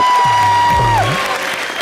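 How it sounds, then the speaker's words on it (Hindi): A studio audience on a comedy show breaks into loud applause, a brief dense burst of clapping with a sustained tone and a low sliding sound running over it. "जोरदार तालियां हो जाए"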